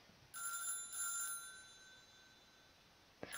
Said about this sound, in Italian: qua c'è il telefono che squilla